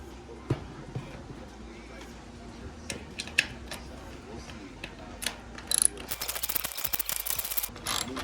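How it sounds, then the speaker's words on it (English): A ratchet backs out a screw on a retractable awning, giving quiet, irregular clicking and metallic ticks, with a denser ratcheting rattle toward the end over a low background hum. "what we're going to do first is we're going to back out this screw so we can put the support beam in"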